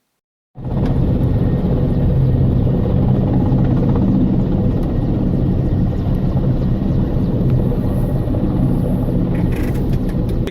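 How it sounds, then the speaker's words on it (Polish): Military helicopter landing in a meadow, a loud, close, continuous rotor and engine roar with a heavy low rumble that begins suddenly and holds steady to the end. "Na łące wylądował helikopter, z którego wyskoczyło kilkunastu uzbrojonych żołnierzy."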